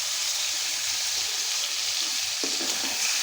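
Spices frying in a hot pan, a steady close sizzle that continues throughout with a brief stir or added-ingredient crackle near the end.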